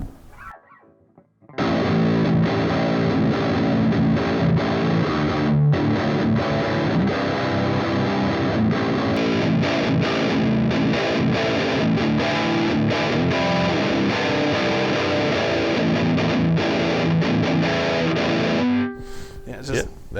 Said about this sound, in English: we'll just listen to a couple differences in the tones coming out of those humbuckers